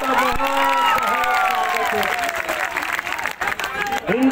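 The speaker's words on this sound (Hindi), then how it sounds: "ताली बजा दीजिए" A crowd claps and cheers at an outdoor BJP road show rally, with loud, continuous clapping mixed with shouts and voices, and a speaker talking over the noise.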